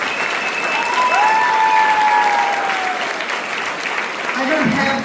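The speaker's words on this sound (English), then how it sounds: "A big round of applause for" A theatre audience at a community drama event applauds loudly and steadily, with whistles and cheers rising above the dense clapping.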